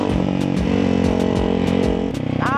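A 2024 Ducati Hypermotard 698 RVE single-cylinder motorcycle engine revs loudly and up close during a city ride on wet, rainy streets, its throbbing exhaust rising and falling with gear changes.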